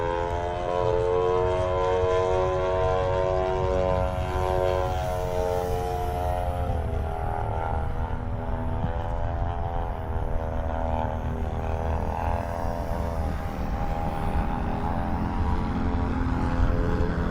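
An RC F4U Corsair model plane drones through the air on its maiden flight, its propeller whine rising and falling in pitch as it passes. The buzz stays steady and moderately loud throughout, with no voices.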